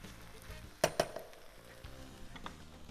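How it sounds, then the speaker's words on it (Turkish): Rice sautéing in a pan for Uzbek pilaf, a soft steady sizzle with two sharp stirring clanks near the start and a few lighter scrapes later, close and moderately quiet. "Pirinçlerimizi de kavuruyoruz."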